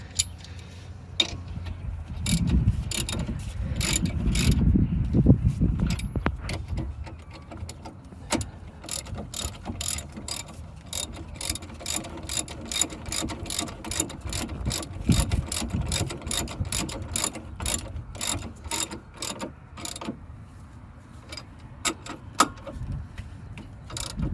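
A ratchet with a 21 millimeter socket works on a 2006 Chrysler Town and Country during a rotor and pad job, giving rapid, repeated clicking runs in close bursts with a brief low mechanical rumble early on.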